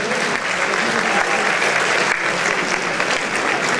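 Loud, sustained applause fills a hall as a group poses for a photo with young photo contest winners, dense continuous clapping from a large crowd throughout, with a brief dip before it swells again.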